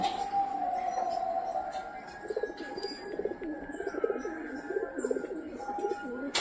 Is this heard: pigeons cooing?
yes